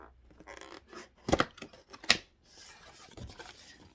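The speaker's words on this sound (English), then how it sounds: "I just had to get the last bit of sticker off." Sticker backing being peeled and scraped off a cardboard box during an insulin pump unboxing, a quiet rasping rub with two sharper tearing bursts, close and alone.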